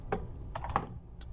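Several quick keystrokes clatter on a computer keyboard in short, irregular clusters, close and fairly quiet, with no voices.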